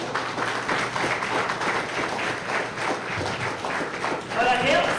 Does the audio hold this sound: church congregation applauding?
yes